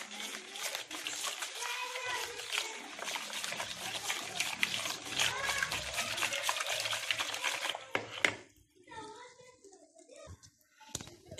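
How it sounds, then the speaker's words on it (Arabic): Spoon or whisk stirs a cake batter for cocoa basbousa made with eggs, oil, sugar, lemon zest, salt and milk, giving a steady close scraping and sloshing that runs continuously, then thins into scattered clinks and quieter pauses near the end. "وكنخلطوا الخليط تاعنا مزيان."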